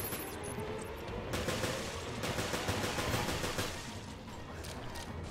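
Rapid bursts of automatic gunfire in the video game Resident Evil Revelations crackle almost continuously, loud and dense, with rattling volleys that pause briefly before resuming.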